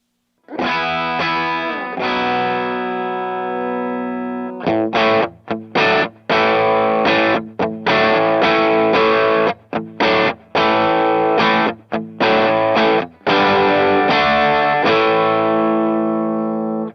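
Heavily overdriven electric guitar through a Vahlbruch Kaluna II high-voltage tube drive pedal, EQ at noon, playing loud, sustained chords and choppy riffs with brief stops, thick and saturated throughout, no talking.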